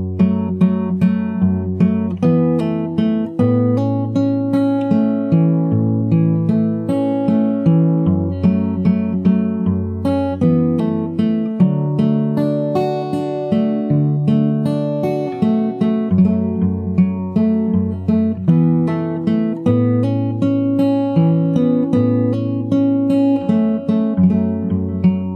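Fingerstyle acoustic guitar plays a verse slowly, with steady picked arpeggios over a low bass line, close and clear, alone with no talking.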